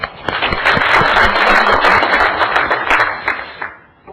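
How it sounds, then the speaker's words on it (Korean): An audience at an insurance sales lecture bursts into dense, energetic clapping that stays loud for about three and a half seconds before tapering off to a few last claps. "박수 한번 쳐드릴게요."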